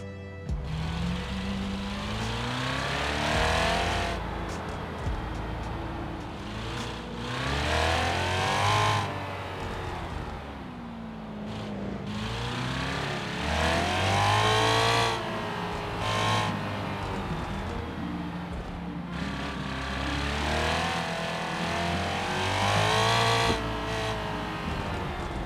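A car in the BeamNG driving game revs hard and pulls through the gears. The engine pitch rises and falls through repeated sweeps, loud and close, with no talking.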